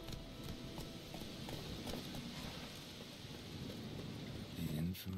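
Horse hooves clip-clop steadily in The Witcher 3, a continuous patter of footfalls under rain-like ambient noise, with a heavier thump near the end.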